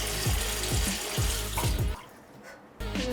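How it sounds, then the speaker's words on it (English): Water from a bathroom sink tap runs steadily while a face is rinsed, with rhythmic splashing as water is scooped up, then a brief quieter pause before the flow resumes. "And time to rinse."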